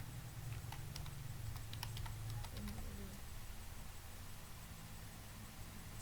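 Someone types a file name on a computer keyboard, producing a quick run of soft, close key clicks over a steady low background hum. Clicking stops after about three seconds.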